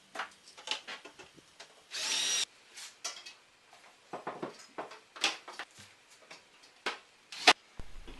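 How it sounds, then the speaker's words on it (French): Power drill driving screws into a metal plasterboard rail for a side frame, short bursts of whirring and clicking with one longer run, interspersed with tapping and handling noises. "Je viens visser un petit morceau de rail horizontal afin de commencer à assembler la structure latérale."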